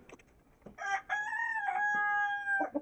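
Chickens cluck and a rooster crows with a drawn-out call, close and clear against a quiet farmyard background.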